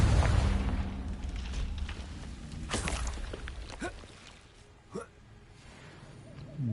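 Confringo blasting-curse explosions from Hogwarts Legacy on PS5 sound as a few muffled booms and sharp bursts over game ambience, with a voice talking alongside.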